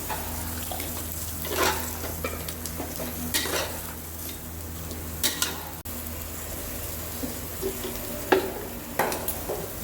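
Chopped coriander and mint sautéed in a pan for mutton biryani give a soft, steady sizzle, broken by scattered clinks and scrapes of a spoon against the pan, fairly quiet and without voices.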